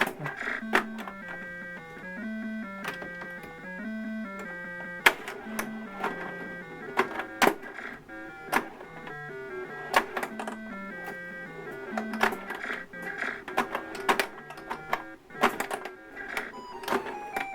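Rapid mechanical clicking and rattling over a tinny electronic melody, with sharp ticks scattered throughout, from a small Spider-Man toy pinball game.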